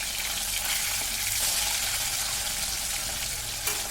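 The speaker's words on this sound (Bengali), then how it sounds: "মাছগুলো এবার উল্টে পাল্টে আমি ভেজে নিচ্ছি" Katla fish pieces frying in hot oil in a wok as they are turned over, giving a steady bright sizzle with a small clatter near the end, no talk.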